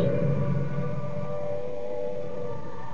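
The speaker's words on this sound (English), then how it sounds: "The noise that you hear at the moment is the sound of the air raid sirens." Air raid sirens wail over Trafalgar Square, London, in 1940, a steady distant droning tone with a low rumble beneath it.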